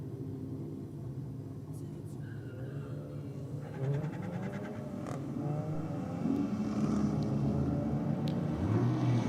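A VW Golf Mark 7 GTI and a Ford XR6 Falcon at a drag strip, engines rumbling and creaking at idle before rising into a building drone that grows louder toward the end.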